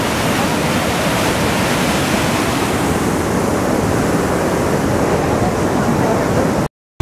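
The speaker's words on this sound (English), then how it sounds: "Is that the water that we're watching roll down the... I hope so. The waterfall?" A waterfall sends water rolling and crashing down in a loud, steady, close roar of broadband rushing noise that carries on without a break and cuts off abruptly near the end.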